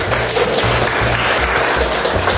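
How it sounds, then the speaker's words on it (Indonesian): A university class applauding together at the end of a lesson, a dense continuous wash of clapping under a low rhythmic thumping hum. "Tepuk tangan untuk kita semuanya."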